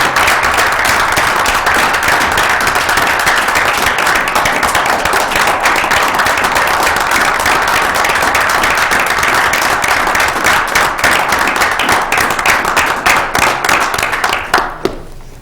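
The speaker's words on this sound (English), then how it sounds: "So one more round of applause" Steady, dense applause from an audience at a Downers Grove council meeting, a continuous wash of many hands clapping that holds for the whole stretch before tapering off near the end.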